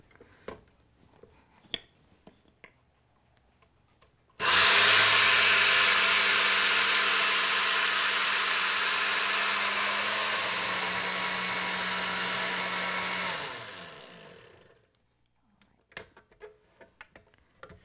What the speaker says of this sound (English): Let's grind this out in a blender.